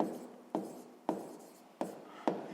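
A pen writes down a maths answer for a sixth-grade exercise, with four distinct scratchy strokes at a steady pace, close and fairly quiet with no talking.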